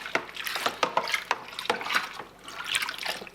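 A paddle stirs a home-brew experimental lager mixture in liquid, giving repeated wet sloshing and swishing strokes close by at an uneven rhythm, with no voices.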